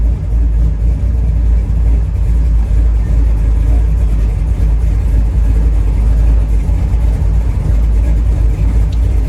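A 1967 Camaro's engine runs steadily under way on the road, a constant low, loud drone with road rumble throughout and no talking.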